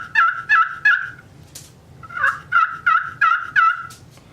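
Turkey yelps played on a friction pot call with the striker held on the surface: two close, loud runs of sharp, evenly spaced raspy notes separated by a brief pause, with no voices.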